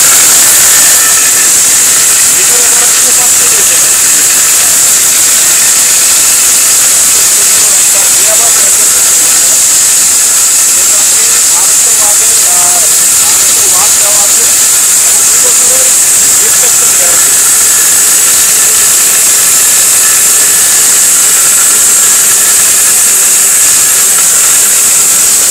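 A blender grinds turmeric with a loud, steady whirring roar and hiss that runs unbroken from start to finish.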